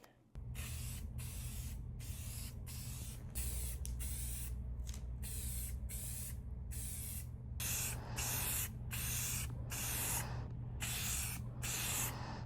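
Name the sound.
spray paint can spraying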